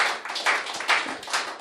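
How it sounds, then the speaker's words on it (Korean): A forum audience gives a short round of applause, a few loud, close bursts of clapping in uneven clusters that rise and fall across just over a second-and-a-half. "박수 한번 주십시오"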